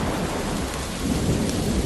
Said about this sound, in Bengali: হঠাৎ দমকা হাওয়া থেকে প্রবল ঝড় বৃষ্টি শুরু হলো